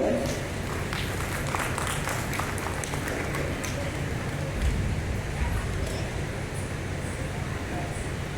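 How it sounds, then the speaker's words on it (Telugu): Audience applause fills a hall during an award function at the STRG Sabha main hall, a steady dense wash of clapping heard close and loud throughout with a busy crowd hum beneath. "ఒక్కసారి గట్టిగా చప్పట్లు."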